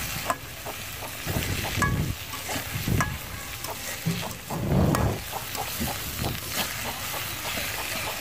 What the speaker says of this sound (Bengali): পেঁয়াজটাকে আমি ভেজে নিচ্ছি নাড়াচাড়া করে।